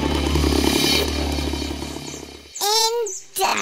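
A lyrebird imitates a chainsaw, producing a sustained buzzing, motor-like drone at first, then sharp rising and falling whistled calls near the end.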